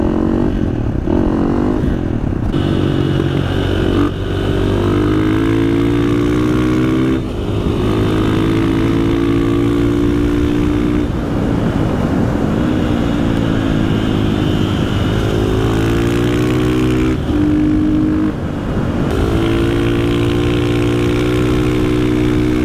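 Supermoto motorcycle fitted with an FMF exhaust, ridden on the road: a loud, continuous engine note that rises and falls through repeated revving and gear changes, close up and alone with no talk.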